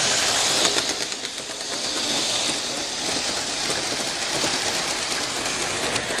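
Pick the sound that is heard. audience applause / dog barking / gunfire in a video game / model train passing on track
model train passing on track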